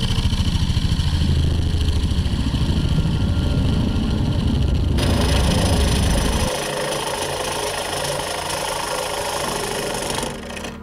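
A spindle gouge cuts a wooden bowl spinning on a lathe, giving a dense, rough scraping roar over the motor's steady hum, with the cutting texture changing partway through; no one talks.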